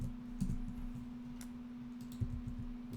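Soft, sparse clicks of typing on a computer keyboard, a few quick keystrokes in small clusters over a low steady hum.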